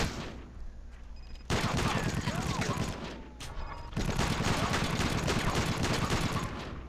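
Turrets fire in the trench-warfare game Iron Storm: dense, loud, continuous bursts of gunfire with a brief lull near the middle, then the barrage resumes at full strength.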